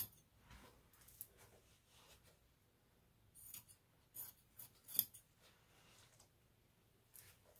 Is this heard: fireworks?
no